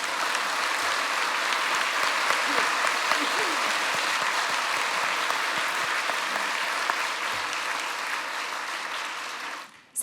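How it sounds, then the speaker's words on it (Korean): A church congregation in Seoul applauds during a 50th-anniversary Sunday service, a dense, even burst of clapping from a large crowd that holds for about ten seconds before cutting off abruptly. "자, 박수해 주세요."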